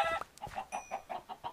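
A chicken in the video game Minecraft clucks in a quick run of about six short, evenly spaced clucks, close and clear with no talking over it.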